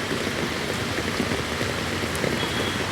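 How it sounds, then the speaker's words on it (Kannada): A heavy downpour on Kanakapura Main Road in Bangalore, near a metro pillar, makes a thick, constant roar of falling water and splashing drops, loud and unbroken, with no one talking. "ಸೂಪರ್ ಮಳೆ."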